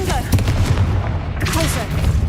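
Confringo spell cast in Hogwarts Legacy, a sharp blasting impact with a booming crack and rumble, followed by more combat bangs under a steady game backdrop.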